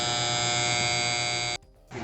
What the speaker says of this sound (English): Gonna make sure the compressor turns on, and we got it on.